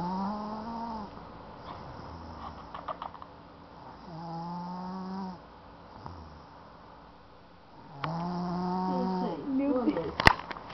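A sleeping woman snores in repeated rough, buzzing breaths, each stroke lasting a second or two with quiet gaps between, close and fairly soft, with a louder sharp burst near the end.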